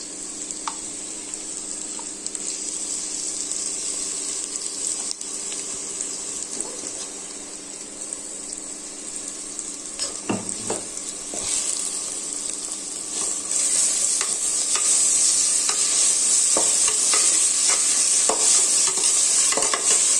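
Ground masala paste fries and is stirred in a pan for chana biryani, a loud, constant sizzling hiss that grows brighter and stronger toward the end, with scraping stirs throughout.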